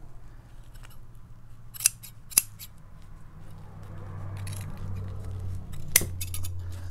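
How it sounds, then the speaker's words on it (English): Scissors snip excess upholstery fabric away from a covered button, a few crisp, close cuts separated by pauses over a quiet low hum. "then you tie it off and just cut the excess fabric off"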